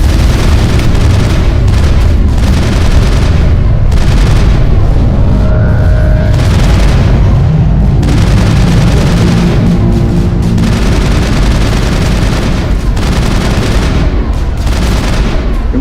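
Dense gunfire and booming blasts fill a firefight in the video game Mass Effect, with continuous loud shots and explosions layered over one another and no pause.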